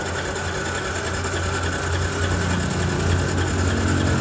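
A Honda EX motorcycle engine, a small Japanese underbone bike, runs steadily at a fast, even idle with a buzzing, rattly tone, heard close and continuous with no talk.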